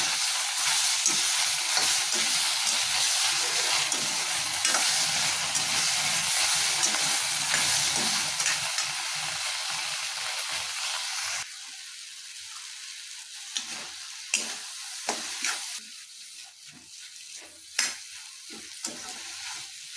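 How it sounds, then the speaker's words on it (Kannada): Three chopped tomatoes fry in a pan for Punjabi-style paneer butter masala, giving a loud, continuous sizzle. Later the hiss quietens and intermittent spoon scrapes and stirring knocks stand out. "ಮೂರು ಟೊಮೊಟೊ ಹಾಕ್ತಾಯಿದೆ ನೀಟು ಸಣ್ಣ ಟೊಮೊಟೊ ಎಲ್ಲ ಸಾಫ್ಟ್ ಆಗಬೇಕು ಆ ಥರ ಆಗೋವರೆಗೂ ಕೈ ಹಾಕಿ ಫ್ರೈ ಮಾಡ್ಕೊಳ್ಳಿ"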